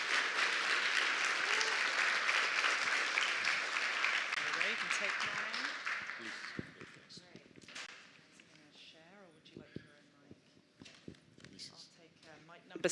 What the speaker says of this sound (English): If you can give them a round of applause.